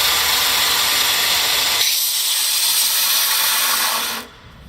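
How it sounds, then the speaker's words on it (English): A Porter Cable Model 64 four-inch belt sander, 1 HP, grinds loudly and steadily up close, its pitch shifting partway as the load changes, then dropping toward a softer running whine at the end. "This is our Porter cable belt sander."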